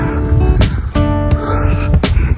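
A runner breathes hard after jogging around an outdoor oval in cold winter air, with sharp, rhythmic panting and gasping close to the microphone amid wind noise.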